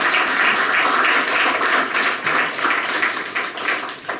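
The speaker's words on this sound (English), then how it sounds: "Let's give the Lord a big round of applause." Church congregation applauding in a hall, a dense steady wash of clapping from many hands that holds for about four seconds and then thins out slightly toward the end.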